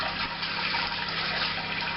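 Water gushing and splashing steadily during a home brew-in-a-bag beer brew day, a continuous close, loud pour with no talk.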